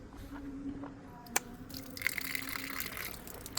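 Water siphons into a water bladder backpack outdoors during a dog walk, a faint, steady trickling and filling sound with a short sharp click partway through, heard alone without talk.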